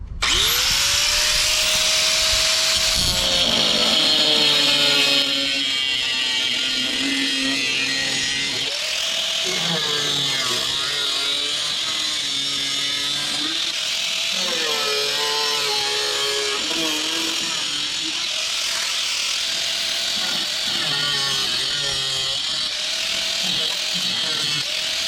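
Power tool cutting through the cowl sheet metal of a Jeep Cherokee XJ or Comanche MJ to fit a Thor cowl induction snorkel, a loud continuous whine with shifting pitch that runs steadily for the whole stretch and stops and restarts briefly.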